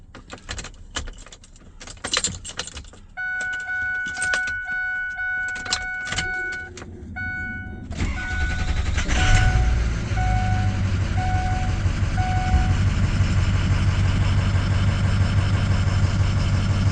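A Ford 6.0 liter diesel truck cranks and fires at about 8 seconds, then settles into a steady, loud, close diesel idle, after warning chimes and clicks from the cab.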